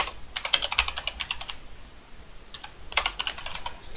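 Typing on a computer keyboard while making a simple Minecraft thumbnail: two bursts of rapid, close clicking keystrokes separated by a short pause.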